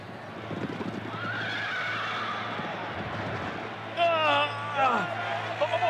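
A racehorse whinnies sharply in a galloping race, two or three rising and falling neighs near the end, loud and close over a steady rushing background.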